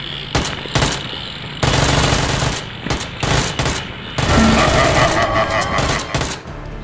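Gunfire in the video game PUBG, bursts of automatic shots and scattered single cracks, fairly loud and continuous with short breaks.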